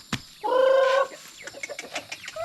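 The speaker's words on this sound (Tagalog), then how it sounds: "Pero tayo ay nag-aalaga ng manok." Backyard chickens kept on a Filipino farm give a drawn-out, nasal call, followed by a scatter of short, close clucks that carry on irregularly through the rest of the clip.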